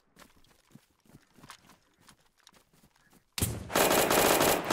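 Gunfire in the survival shooter DayZ: a series of sharp, distant shots crackles irregularly, then a sudden, loud, continuous burst of close automatic fire takes over and holds to the end.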